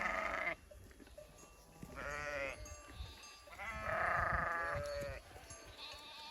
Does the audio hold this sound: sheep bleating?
yes